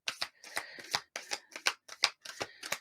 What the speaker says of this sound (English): I'll do one more shuffle because you seem chatty.